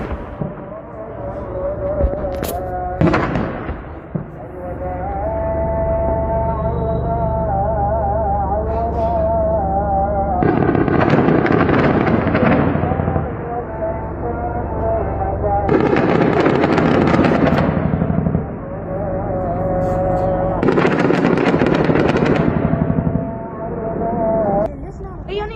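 Gunfire exchange in a ground battle between US forces and Kataib Hezbollah in Iraq, loud bursts of rapid cracking shots in several clusters, with quieter stretches and a low rumbling din between them.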